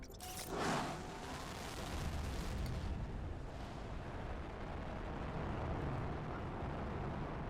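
Rockets launching in Planet Crafter: a sharp burst at the start, then a steady roaring rumble that holds at a moderate level to the end.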